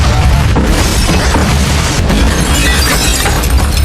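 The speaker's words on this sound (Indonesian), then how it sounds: "Rumah Bu Guru meledak." A house explodes in a loud, roaring blast that fills the space, a continuous rumble of crashing and breaking debris with crackling bursts throughout.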